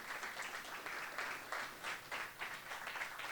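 Applause from an audience at an awards ceremony comes in soft, rolling waves, faint and somewhat distant, with no talking over it.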